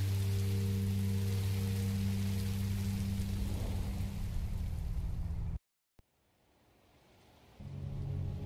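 Steady rain falls in Minecraft Story Mode, a dense hiss over a low droning hum, cutting out abruptly near the end before the rain resumes more faintly.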